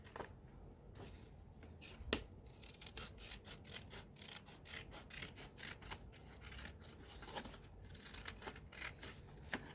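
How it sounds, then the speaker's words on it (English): Small scissors snip in quick, irregular crisp clicks and rustles, close by and fairly quiet, with no talking. "Once again, using the nail scissors."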